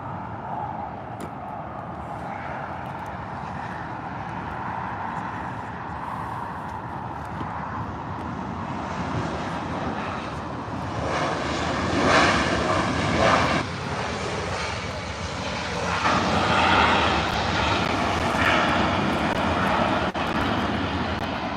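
A Delta Connection Embraer E175 LR jet roars with a broad, sustained engine rumble heard from a distance, slowly swelling louder toward the middle and end as the aircraft passes.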